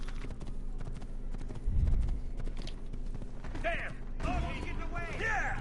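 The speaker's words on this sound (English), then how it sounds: "Hop on the horse and head out." Horse hooves clatter in a fast clip-clop as a rider gallops through a city in Assassin's Creed 2, with game music, crowd noise and crashes mixed in and a voice talking over parts.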